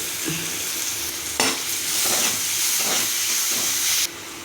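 Chopped onions sizzle steadily in a hot pan, a continuous close crackle with a stirring scrape partway through before the sizzle drops off.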